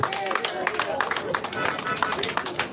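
Crowd clapping for the police at a public walk-through event, a dense patter of hands with some voices mixed in, moderately loud and steady throughout.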